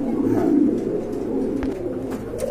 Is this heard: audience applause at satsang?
no